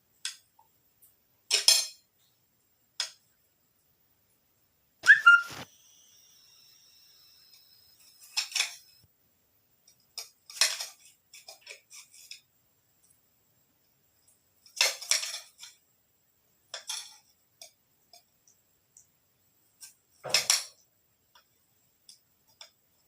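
A knife cuts through egg and tomato on a board in short, separated clicking taps, each a brief sharp knock, spaced irregularly with quiet gaps between.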